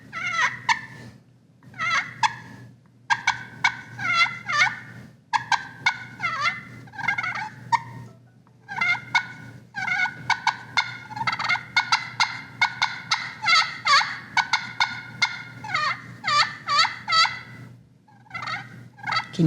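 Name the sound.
turkey call imitating a content hen purr and cluck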